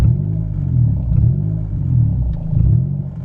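A flooded car engine revs in slow, uneven surges, rumbling loudly and close, rising and sagging repeatedly as it struggles to stay running.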